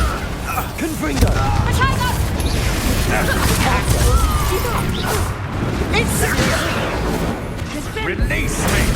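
A Confringo blasting curse explodes in the Hogwarts Legacy video game amid a dense, loud, continuous wash of booms, crashes and whooshes, with a voice speaking over the battle noise.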